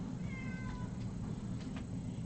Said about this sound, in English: Calm down, kitty.